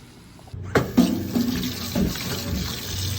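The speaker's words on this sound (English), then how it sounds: "Always make sure your sink's nice and clean when you're going to strain rice" Cooked rice is poured from a pot into a strainer in a kitchen sink, a sudden rush of water splashing and gurgling close by, settling into a steady drain.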